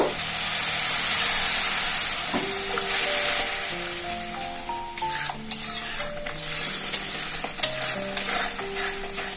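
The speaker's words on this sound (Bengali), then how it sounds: "এই মশলার মধ্যে আরেকটু জল দেব।" Water poured into a spice paste in a hot pan for ghugni, a loud hiss and sizzle, then a spoon scraping and stirring with clinks against the pan as the sizzle settles.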